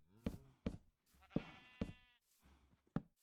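Sheep bleat repeatedly on a farm in Minecraft, several short wavering calls spaced through the moment, fairly quiet and with no talking.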